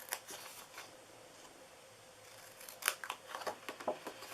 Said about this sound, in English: we are going to cut off these 2 on the bottom corner here